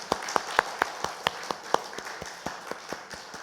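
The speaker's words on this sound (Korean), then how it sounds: "박수로 위로하고 격려했으면 좋겠습니다" A church congregation gives sparse applause during a Sunday service, distinct separate hand claps in a loose, irregular rhythm, moderately distant and thinning out toward the end.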